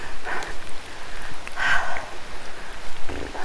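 Steady rain falls on a forest trail in the Great Smoky Mountains, a continuous close hiss with a few louder drops and rustles, no talking.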